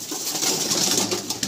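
Madrasi pigeons in a loft give soft, low cooing over a constant airy background hiss. The sound is brief and close.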